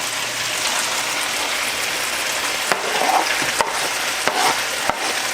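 Garlic, spices and vegetables go into a hot pan for a chicken and artichoke dish, giving a steady close sizzle with a few sharp scraping clicks of stirring scattered through, and no one speaking.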